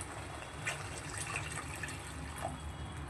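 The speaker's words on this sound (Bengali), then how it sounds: "এবারে আমি দিয়ে দেবো জল" Water poured from a vessel into a pan of well-fried spice masala, a steady soft splashing trickle that runs evenly throughout at moderate volume with no talking.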